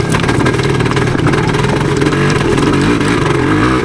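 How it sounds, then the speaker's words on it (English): A 1977 Yamaha DT250 dirt bike engine revs loudly and continuously, its pitch rising and falling as the throttle is worked, close by with no voices. "When I'm whacking it open, I'm usually revving it out and it cleans out"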